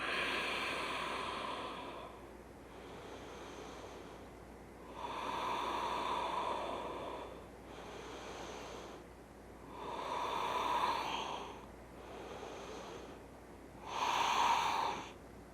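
Slow, deep breaths during a prenatal yoga flow, four long airy exhales spaced evenly a few seconds apart, soft and close with quiet pauses between, no talking.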